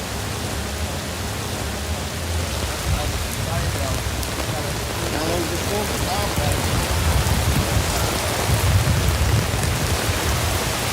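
Heavy rain pours without a break onto an open-air concert stage during a tour, a dense and loud wash with low rumbles swelling beneath it.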